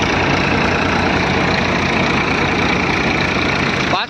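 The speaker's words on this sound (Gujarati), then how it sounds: "આપણે આ થ્રેસર ચલાવવામાં ડબલ ક્લચ ટ્રેક્ટરની જરૂર પડે છે" A groundnut thresher driven by a double-clutch tractor runs loud and steady, a dense continuous mechanical roar with engine rumble and a constant blower hiss, close by and unbroken until a sudden drop at the very end.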